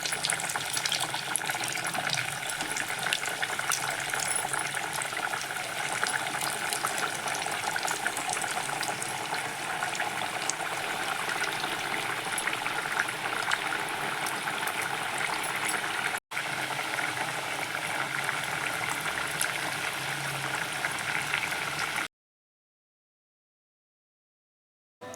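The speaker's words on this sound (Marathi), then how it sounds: "छान तेल तापलंय. आता सगळे असे तळून घेऊ." Dal batti dough balls deep-frying in hot oil, a steady broadband bubbling sizzle that holds evenly for about twenty-two seconds before cutting off, with no voices over it.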